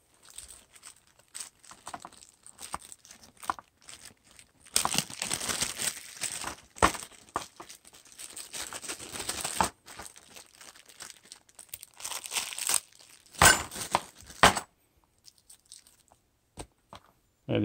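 Thin plastic packaging bags holding mounting brackets and clips crinkle and tear open close up in bursts of crackly rustling, busiest in the middle, with quieter pauses between handling.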